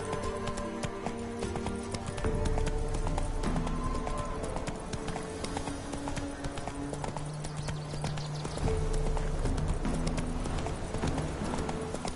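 The horse Roach gallops in The Witcher 3 with a steady, continuous clatter of hoofbeats. Game music plays throughout and a voice speaks briefly.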